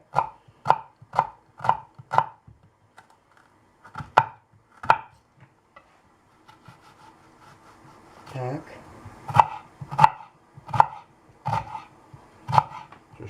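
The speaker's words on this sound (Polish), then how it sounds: "W tym czasie kroimy cztery małe lub dwie duże cebule w kostkę." Knife blade chopping onions into small dice on a board, sharp rhythmic taps in quick bursts separated by pauses, close and clear, with a brief scraping sound in between.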